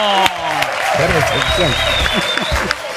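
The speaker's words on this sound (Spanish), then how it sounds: "Fuerte el aplauso para recibir al querido Martín Sefer." A television studio audience bursts into loud, sustained applause to welcome a guest on a talk show, while a host speaks over the clapping.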